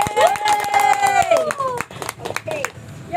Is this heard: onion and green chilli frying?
no